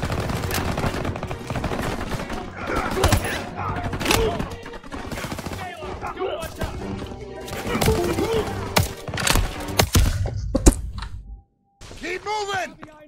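Machine guns in the World War II shooter game Call of Duty WWII fire in dense, rapid bursts with overlapping shots and thuds. Game voices shout between volleys, and the firing drops away briefly near the end.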